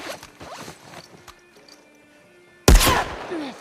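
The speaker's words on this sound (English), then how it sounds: "Who's shooting at me?" Sudden loud burst of gunfire erupts in a video game after a quieter stretch of faint mechanical clicks and ambient tones, the shots dense and close, ringing on for about a second.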